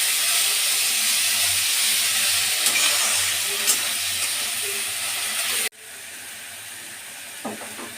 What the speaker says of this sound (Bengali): মশলাটা দেওয়ার পর মিডিয়াম আঁচে রেখে মশলাটাকে ভালো করে একটু কষিয়ে নেব।